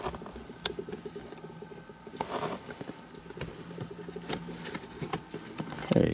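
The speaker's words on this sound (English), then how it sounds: "you can use a really small screwdriver" A small screwdriver prying and scraping at a metal cigar lighter socket in a DeLorean, faint close clicks, scrapes and creaks with a few sharper metallic ticks over soft background noise.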